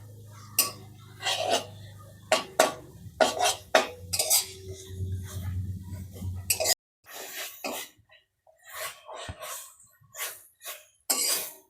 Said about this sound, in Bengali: এবার ভালো করে একটু কষিয়ে নেব মশলাটা